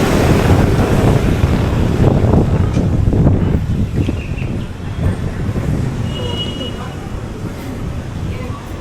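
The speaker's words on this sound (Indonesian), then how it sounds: "Kebetulan lagi berangin." Gusty wind blows across a microphone in a town in Grenada, a steady broadband rush that is stronger for the first few seconds and then eases, with faint background activity underneath and no one speaking.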